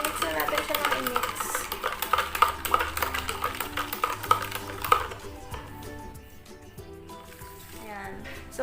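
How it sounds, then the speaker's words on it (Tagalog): A spoon stirs a gelatin mixture in a bowl, scraping and clinking in a quick repeated rhythm before easing into quieter swirling, with a voice speaking over it. "Mix na natin siya ng i-mix"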